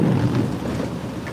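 Steady rain pours on a car while driving, a dense wash of drops and low rumble filling the short stretch without any talking.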